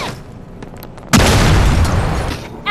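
A grenade blast in the game Gangstar Vegas erupts suddenly after a quieter stretch, a loud broadband boom that holds and rumbles on before a second burst at the end.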